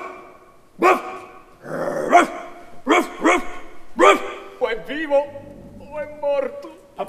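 A voice imitates a dog barking in an Italian comic stage version of The Merchant of Venice: several loud, gruff bow-wow barks in quick succession, followed by other vocal sounds.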